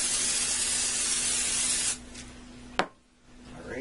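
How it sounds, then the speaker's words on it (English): Cooking spray hisses steadily from an aerosol can into silicone cake pans for about two seconds, close and loud, then cuts off, followed by a single sharp knock and a quiet room. "I'm going to spray them with cooking spray."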